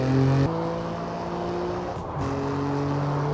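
A BMW M2 sports car engine roars loudly accelerating from a standstill, drops briefly as the gear changes, then climbs again in pitch; close and continuous, with no talking.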